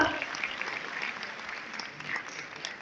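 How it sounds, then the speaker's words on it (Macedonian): Audience applause at an awards show, a dense sustained clapping from a large crowd heard at a steady level throughout, with faint voices underneath. "Ајде уште еднаш голем аплауз"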